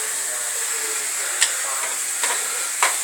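A pot of mussel, crab and tilapia soup heating toward a boil, giving a steady, bright hiss with a few faint ticks and bubbling pops.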